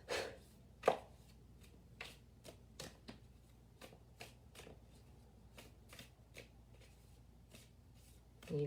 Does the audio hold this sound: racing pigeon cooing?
no